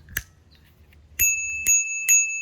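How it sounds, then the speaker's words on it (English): Bicycle bell on a Hitway BK10M folding e-bike rung close by, one quick ding followed by three bright rings in steady succession, each leaving a sustained metallic tone. "So the bell just works like that."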